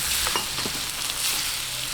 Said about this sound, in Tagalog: Isa-gisahin lang po natin hanggang mag-light brown bago natin ilagay yung mga pampalasa